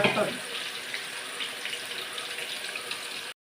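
Sliced potatoes frying in boiling oil for chips give off a continuous soft, even sizzling hiss with no voices, ending suddenly.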